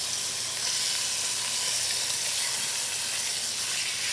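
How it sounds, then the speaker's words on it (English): Beef short ribs sear in butter in a hot pan, giving a loud, steady sizzle with constant hissing and crackle throughout. "I'm almost done searing all sides of my ribs, so now I'm going to add 2 tablespoons of butter"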